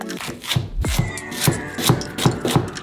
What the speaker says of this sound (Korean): 반으로 자르고 줄기를 따라 잘라주고